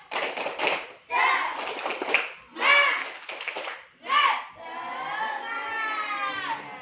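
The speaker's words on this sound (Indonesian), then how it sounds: "Ayo, kita tepuk semangat dulu pagi ini." Children do rhythmic spirit clapping in a morning classroom, with several bursts of chanted voices and clapping in a steady pattern, ending in a longer, sustained group shout.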